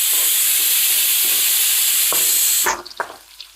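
Garlic and fenugreek seeds frying in oil in a pan, a loud steady sizzle and hiss that cuts off near the end, leaving a few clinks and stirring knocks.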